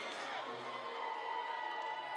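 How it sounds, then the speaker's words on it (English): A crowd at a women's volleyball semi-final shouts together in a sustained, fairly distant roar, a dense wash of voices that holds steady without breaks. "the whole crowd is shouting in from opposite, and we can hear it through our headphones"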